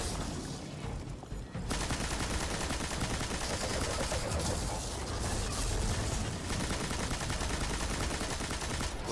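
Gunfire in the game Destiny 2, a dense, steady crackle of rapid shots that keeps up after a brief quieter opening, heard without speech.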